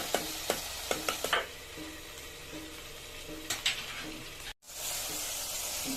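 Tomato pieces cook in a pan, a constant low sizzle broken by a few clinks and scrapes of a spoon stirring against the metal, then a brief dropout before the hiss resumes.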